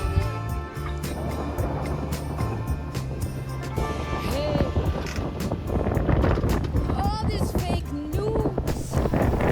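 Steady wind rushing past a sailboat on open water off Grenada, with creaking and rattling boat noises and occasional tonal whines over a low rumble.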